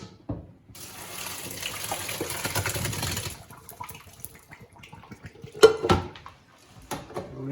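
Cooked rice for Persian saffron tahchin drained from a pot into a sink, a few seconds of steady pouring water followed by clanks and knocks of the pot and utensils.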